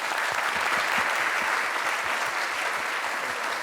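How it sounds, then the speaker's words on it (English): A room full of people applauds a retired major general after his talk, producing steady, even clapping from many hands at moderate distance that holds throughout without voices on top. "Let's give the General another round of applause."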